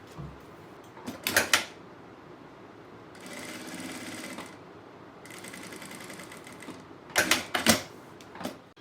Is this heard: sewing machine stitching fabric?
yes